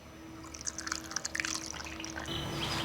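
Engine Ice coolant gurgles and drips as a Yamaha R1's cooling system draws it down during a coolant flush, with close, delicate trickling and bubbling that swells into a steadier pouring flow at the end.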